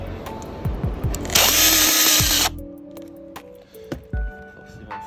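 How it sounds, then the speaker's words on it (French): A power screwdriver whirs as it drives a screw into a composite decking board on an outdoor terrace, a loud sustained buzz of about a second, with short clicks and handling knocks around it. "je vais visser. Et on va plus voir la vis"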